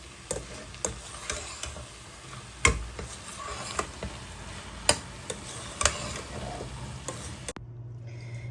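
Papaya stir-fried with egg in a pan, scattered clicks and scrapes of a spatula over a low steady sizzle, ending abruptly in near silence.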